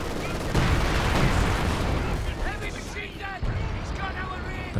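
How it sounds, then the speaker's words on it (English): A concentration barrage in Company of Heroes 2 lands as heavy, rumbling artillery fire with dense overlapping blasts, running continuously beneath busy game noise and steady commentary. "dropped the concentration barrage"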